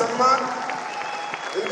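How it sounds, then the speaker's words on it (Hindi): At a company celebration in Thailand, the crowd applauds the factory and marketing office staff called up on stage, a hazy wash of clapping blended with sustained tonal sound throughout. "इनके लिए जोरदार तालियां दोस्तों"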